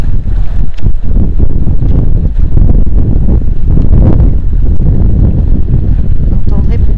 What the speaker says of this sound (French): Vous entendrez peut-être le vent